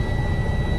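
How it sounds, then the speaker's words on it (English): A 2009–2010 Detroit Diesel DD15 truck engine with a low oil pressure problem runs in a loud, steady, close diesel rumble, topped by a thin high whine. "we started up the DD15."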